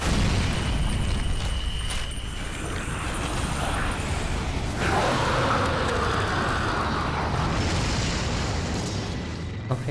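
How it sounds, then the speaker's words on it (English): A loud, sustained explosion rumble fills a Persona 5 game scene, with a fresh blast surging midway over dense, continuous roaring noise. "Explosion."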